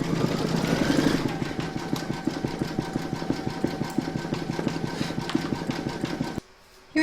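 An embroidery machine sews satin stitching around a takeaway coffee coaster design, giving a fast, even mechanical clatter of needle strokes that runs steadily and then stops abruptly near the end.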